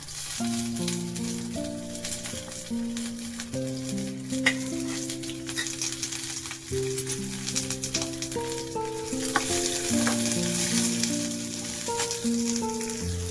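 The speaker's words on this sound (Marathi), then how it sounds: "पहिला भाजून घेऊया कांदा लय नाही आपल्याला" Onion roasts in oil in a pan, giving a steady, close sizzle and crackle that runs the whole time beneath soft background music, with no speech.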